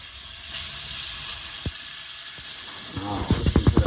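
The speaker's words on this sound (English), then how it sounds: "Wow, listen to that sizzle." Tournedos steaks sizzle in a hot pan with a steady hiss, a few sharp crackles, and a burst of spitting pops toward the end, close and alone with no talk.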